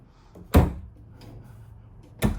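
Two sharp wooden bangs of a drawer without soft-close slamming shut in a 2025 Brinkley Model Z Air 285 travel trailer, one early and one near the end, with quiet room tone between.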